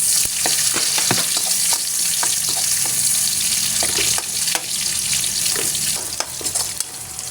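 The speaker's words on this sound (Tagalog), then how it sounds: "So, syempre, magigisa na ako ng bawang." Garlic and onion sauté in a hot pan, a steady loud sizzle and crackle running the whole time with frequent sharp pops and spatters, stirring scrapes mixed in, no talking.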